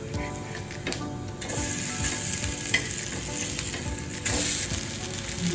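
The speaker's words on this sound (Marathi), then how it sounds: "आपल्या वरच्या बाजूने थोडंसं तेल सोडून द्यायचं आणि हे कटलेट आपल्याला पलटून घ्यायचे." Vegetable cutlets fry in oil in a pan with a steady, loud sizzle that runs throughout, broken by small scraping and clattering knocks.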